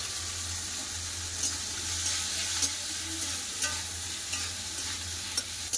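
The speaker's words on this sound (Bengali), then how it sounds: "পেঁয়াজ হালকা করে ভেজে নিয়েছে" Chopped onions fry in oil with a steady broadband sizzle, joined by occasional clicks and scrapes of stirring, all in a home kitchen with a low hum beneath and no one talking.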